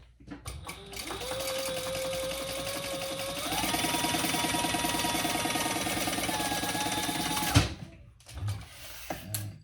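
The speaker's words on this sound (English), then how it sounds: "now let's sew across that line" Sewing machine stitching across a drawn line on a small sling bag, a long steady run of rapid mechanical stitching that speeds up partway, then stops with a clunk and a few handling knocks.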